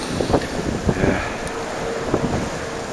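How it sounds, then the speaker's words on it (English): Strong wind during a February snow storm in Cape Breton buffets the microphone, with gusty roaring bursts and low rumbling over a constant blustery background, no voices. "The wind's up too high. Really high."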